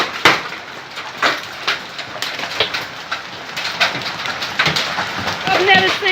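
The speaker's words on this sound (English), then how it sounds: "I've never seen fucking hail that big. It's smashing!" Hailstones bigger than golf balls fall and smash outdoors, producing sharp irregular cracks and thuds over a constant patter, loud and close, with birds chirping faintly near the end.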